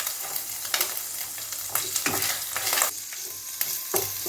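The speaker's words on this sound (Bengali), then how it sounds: "এবার আমি তেলের মধ্যে রসুনগুলোকে দিয়ে দিচ্ছি।" Garlic dropped into hot oil after chicken has been fried, making a lively sizzle broken by repeated scraping stirs, close and fairly loud with no talking.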